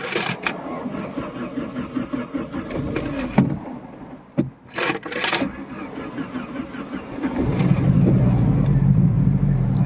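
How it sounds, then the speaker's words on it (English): A Saab 900 Turbo with a suspected blown head gasket cranks and fires, then settles into a rough, uneven idle running on three cylinders, loud and close, with brief clicks and clunks early on. "I'm going to try and start it up now."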